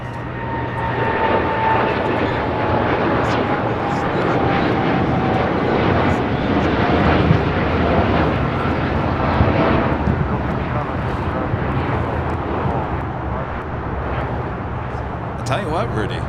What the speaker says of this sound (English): United Dreamliner heading to Tokyo Haneda, now rolling down, taking off at 25 right